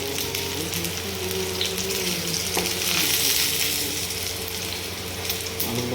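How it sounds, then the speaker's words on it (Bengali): Potatoes fry in hot oil in a wok, a loud, steady bubbling hiss that holds constant and close for the whole stretch. "আলুগুলো ভাজা হোক।"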